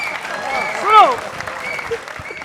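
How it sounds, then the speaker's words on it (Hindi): Audience applause at an Indian televised election-satire poetry show, a steady clapping wash running under a man's sung, declaiming voice, swelling briefly near the middle. "तालियों का पहाड़ खड़ा कर देना मेरे दोस्तों"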